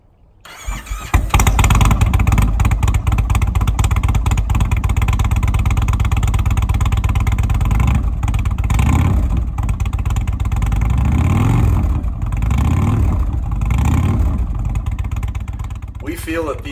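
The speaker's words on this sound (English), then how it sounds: "you finally get to hear what these pipes sound like" A 111 motorcycle fitted with newly installed RCX aftermarket exhaust pipes starts up, then idles loudly and close with a deep throbbing rumble, punctuated by several revs that rise and fall.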